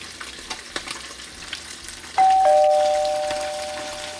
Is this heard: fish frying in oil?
yes